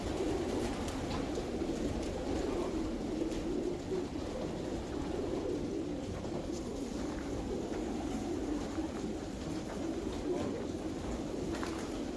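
Several Mardin pigeons coo softly and continuously inside a coop, a low, murmuring chorus at moderate distance with faint rustling throughout.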